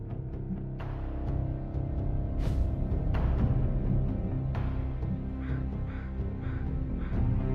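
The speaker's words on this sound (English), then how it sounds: "You ever wonder if those birds out there are stuck here?" Crows caw repeatedly in Marvel's Midnight Suns, with scattered harsh calls over a dense, low ambient rumble, some calls near and others farther off.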